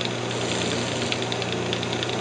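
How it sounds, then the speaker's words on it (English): Drill motor running steadily as a bit bores into a redwood Christmas ornament on a wood lathe, a loud continuous whine with a faint rhythmic pulsing and no talk. "The drill tends to want to wander on it."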